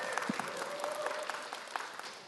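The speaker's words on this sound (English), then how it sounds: "Applause to our feast staff" Applause for the feast staff at an evening court gathering of about 130 people, steady clapping from a room crowd lasting a couple of seconds, with a faint tone running under it.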